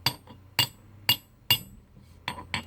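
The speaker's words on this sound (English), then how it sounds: "Here we got a nice looking Osborne tack hammer." An Osborne tack hammer handled at a flea market: a quick series of about six sharp metallic clinks and knocks, spaced irregularly and fairly close, with no talking.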